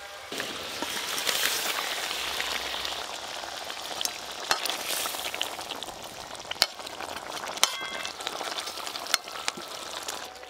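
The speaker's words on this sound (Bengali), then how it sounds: "ঝোল খুব ভালো করে ফুটে গেছে, এবার ভেজে রাখা মাছগুলো দিয়ে দেবো।" Tomato gravy boiling hard in a pan as fried tangra fish are added, producing a dense, steady bubbling sizzle with scattered sharp clicks and knocks, close and fairly loud, with no talking.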